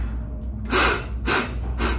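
A man with a broken, badly healed nose forces air out through one nostril, giving three broad breathy puffs at close range with short pauses between them.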